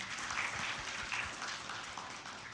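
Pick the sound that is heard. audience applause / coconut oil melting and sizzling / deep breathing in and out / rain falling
audience applause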